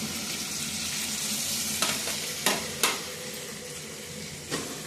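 Tomatoes frying in a pan, a continuous close sizzle with a few sharp crackles and stirring clicks scattered through.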